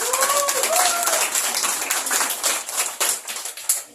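A crowd at a school ceremony claps in a burst of brisk, uneven hand claps that trail off toward the end, after a brief voice at the start.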